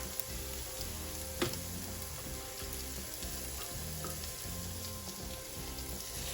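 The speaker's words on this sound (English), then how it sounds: "you're just going to stir fry this kimchi with your onions" Kimchi and onions stir-fry in a pan with a constant soft sizzle and crackle, joined by occasional light scrapes and one sharp tap, no talking.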